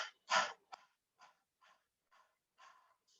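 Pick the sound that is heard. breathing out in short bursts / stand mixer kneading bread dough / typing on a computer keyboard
breathing out in short bursts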